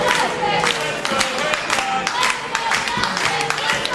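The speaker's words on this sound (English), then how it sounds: "You can hear a little bit of dueling chants here from this crowd." A wrestling crowd at an indoor independent show keeps up rowdy back-and-forth chanting and shouting, loud and continuous with scattered claps, while a commentator talks over it.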